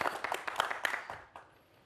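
Applause from a studio audience for a speaker at a Korean lecture program, a short burst of many hands clapping at moderate distance that quickly fades to near silence.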